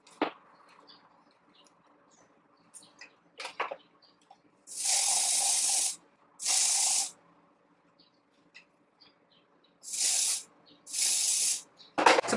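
Hairspray from an aerosol can sprayed onto short hair during an updo styling, four separate hissing bursts of about a second each, close and loud, in an otherwise quiet room.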